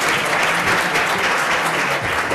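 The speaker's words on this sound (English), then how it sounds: "give a round of applause for Heidi" Conference audience applauding, a dense, even wash of clapping from a full room, loud and continuous for the whole short stretch, with no voices on top.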